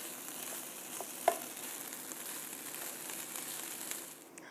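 Shrimp cooking in a paella pan: a soft, steady sizzle and hiss of frying with a faint crackle and one brief clink, heard close and without talk.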